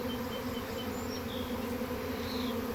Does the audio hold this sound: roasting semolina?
no